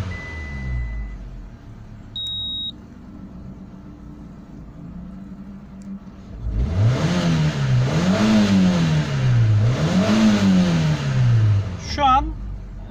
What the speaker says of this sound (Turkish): Şu an aracımız çalıştı gördüğünüz gibi.